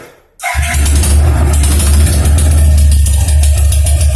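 A bored-up Yamaha Byson motorcycle engine cranks and catches after a brief moment of quiet, then settles into a loud, steady, deep-throated running rumble close by.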